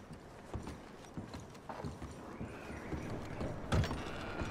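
Horse hooves clip-clopping with creaks and clinks of tack in Red Dead Redemption 2, a few soft scattered steps and a sharper knock near the end, faint and fairly close, heard alone.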